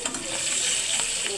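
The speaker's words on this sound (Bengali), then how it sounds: "এদিকে মাছগুলো ভাজা হইতেছে" Fish fry in hot oil in a pan with a steady, bright sizzle, a continuous hissing crackle of spattering oil heard close up and on its own.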